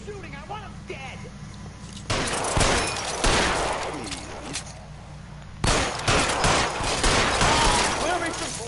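Gunfire erupts in a shootout in L.A. Noire, dense bursts of rapid shots in two loud waves separated by a short lull, with voices shouting in between.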